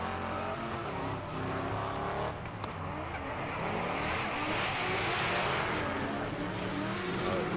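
Drift cars race at Taupo Motorsports Park with loud, continuous engine roar and screeching tyres that build in intensity. The sound stays close and dense throughout, with a commentator's voice faintly under it.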